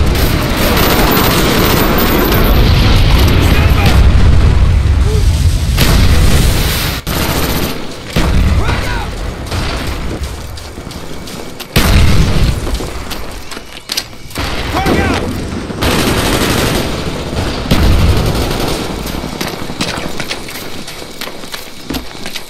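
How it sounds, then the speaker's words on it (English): Napalm strike explosions in Call of Duty Black Ops team deathmatch multiplayer: heavy, loud booming blasts and rumbling bursts that repeat throughout, with a steady roar of gunfire and battle noise between them. "Friendly napalm strike on the way."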